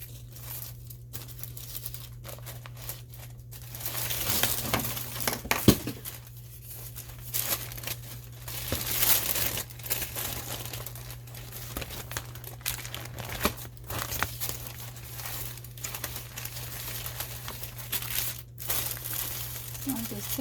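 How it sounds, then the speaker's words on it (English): Paper crumpled and torn by hand for a junk journal made from a composition notebook, steady crinkling and ripping close up through the whole stretch, with a low constant hum underneath. "just taking it, holding it where the paper ends, and then ripping."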